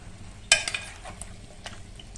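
Black chicken masala stir-fried in a pan over a high gas flame: a low continuous sizzle with a sharp scrape of the spatula and a few lighter stirring clinks.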